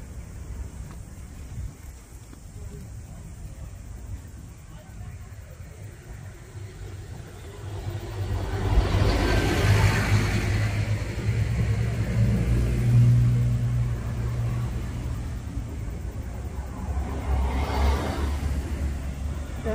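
City traffic in Wellington's CBD, New Zealand, a steady distant rumble of many cars swelling louder midway as vehicles pass and accelerate nearby, with faint talk in the background.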